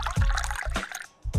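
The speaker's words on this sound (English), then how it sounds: "go ahead and pour some green tea" Green tea being poured in DAVE the Diver, a short run of gurgling, trickling liquid bursts. The pour pauses briefly, then resumes.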